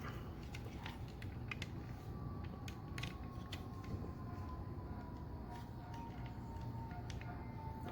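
A plastic WFC Kingdom Cyclonus toy figure is handled and transformed, producing faint clicks, creaks and snaps of moving joints over a steady background hum.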